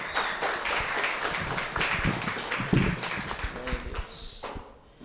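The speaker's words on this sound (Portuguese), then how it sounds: "Vamos aplaudir o Senhor por trazer nosso pastor João dos Santos aqui" A church congregation claps during an evening worship service. Quick, uneven hand claps mix with voices and fade toward the end.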